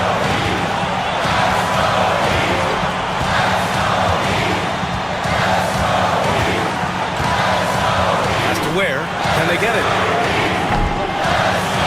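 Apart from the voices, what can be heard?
basketball arena crowd cheering in a basketball video game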